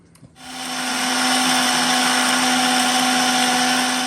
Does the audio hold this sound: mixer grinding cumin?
yes